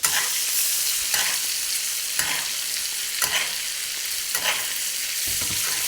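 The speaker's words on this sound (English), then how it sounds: "Gonna add a little touch of butter and get a few sage leaves." Butter and sage leaves sizzling in a pan alongside roasting monkfish, a loud continuous frying hiss close up, swelling in rhythmic surges roughly every second as the fat is spooned over.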